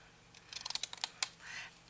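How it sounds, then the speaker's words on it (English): Decorative scissors cutting paper in a quick series of close, crisp snips, about a dozen sharp clicks within a second, then a soft sliding rustle of paper, with no voice. "I used these decor scissors and just cut."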